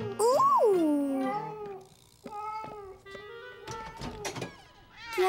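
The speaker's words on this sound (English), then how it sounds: "Silly cat." A cartoon cat lets out a loud, drawn-out meow with a rising and falling pitch, then softer, scattered sounds and a brief light voice follow.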